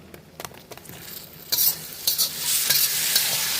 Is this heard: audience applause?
no